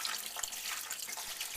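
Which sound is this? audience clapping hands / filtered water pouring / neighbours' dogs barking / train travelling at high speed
filtered water pouring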